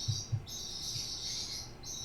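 High, continuous birdsong trills through the background, with a few soft low thumps early on and no speech.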